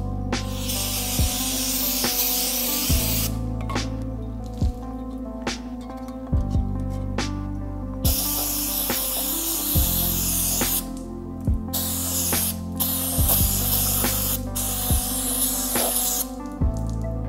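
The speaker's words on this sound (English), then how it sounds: "brakes and parts cleaner, let's give it a spray, make sure they're absolutely clean" Brake parts cleaner sprayed from an aerosol can onto a trailer wheel hub, a long series of close, hissing bursts, some sustained and some short, with faint clicks between them and no talking.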